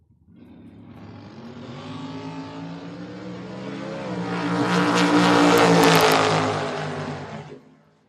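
A Mustang drag car launches at a bracket race, its engine roaring up from a low rumble to a loud, rising scream that peaks and then cuts off. The sound is close and strong, and no one speaks over it.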